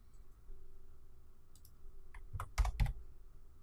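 Typing on a computer keyboard while entering a meta field name, heard as a faint hum followed by a quick run of crisp, close key clicks near the end.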